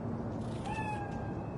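A cat meows in Cyberpunk 2077, one drawn-out tonal call rising out of a steady, noisy game ambience and fading over about a second.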